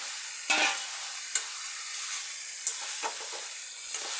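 Banana flower curry with fried potatoes is stirred in a pan. Soft steady sizzle with a few sharp clicks and scrapes of the spoon, quiet and close, without talk.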